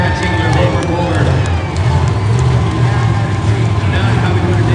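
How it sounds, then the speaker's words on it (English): Crowd cheering and applause fill a Monster Jam stadium show in Baltimore after a monster truck run, a steady loud roar of many people with engine-like rumble underneath throughout. "he will get a big round of applause from you guys"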